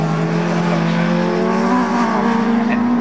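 Race cars at Cadwell Park circuit passing at speed toward Hall Bends, a loud continuous engine drone with steady revving and faint tyre noise, no talk over it.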